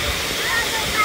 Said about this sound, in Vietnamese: Thác nước đẹp quá.